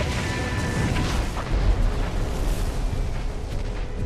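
Missiles explode in a MechWarrior game cinematic as a dense, roaring wall of blasts and crackling debris, loud and sustained for several seconds with no voices over it.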